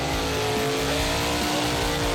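Ford Mustang with the rev limiter removed, screaming near 8,000 RPM at a Summernats burnout event, a loud sustained high engine wail with wavering pitch and no talking.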